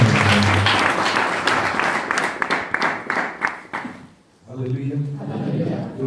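A church congregation applauds in a loud, sustained burst of clapping that fades out after a few seconds, followed by someone speaking.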